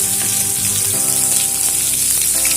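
Ground spices such as cumin, coriander and chili powder, with a little sugar, fry in a pan for a vegetarian banana flower dish with chickpeas and peanuts, giving a steady, close, continuous sizzle with no talking.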